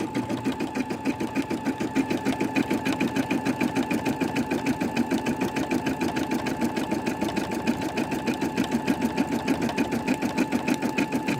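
Plastic embroidery machine stitching with a rapid, even mechanical chatter, close and loud, keeping a steady rhythm without pause throughout.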